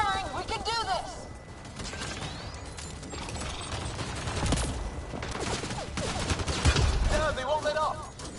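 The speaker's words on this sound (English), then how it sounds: "I can't get a beat on those things! There's too many of them! Just keep firing, we can do this!" Gunfire from a PS4 space video game: rapid mechanical bursts and clattering shots with bright electronic effects, set under game voices talking.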